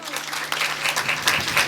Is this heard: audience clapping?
yes